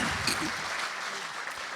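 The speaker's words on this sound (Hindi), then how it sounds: "एक बार जोरदार तालियां आप अपने सम्मान में बजाइए।" Audience at a Hindi kavi sammelan poetry festival in Hapur applauding, a dense steady wash of many hands clapping throughout, moderately loud and continuous with no break.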